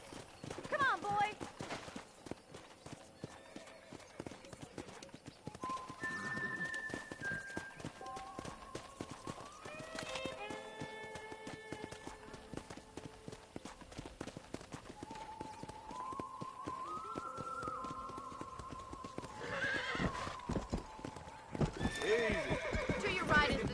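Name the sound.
horse riding, hooves clip-clop, in video game Red Dead Redemption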